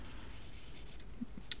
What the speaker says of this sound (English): so I'll just give those a quick little sand with my swizzle stick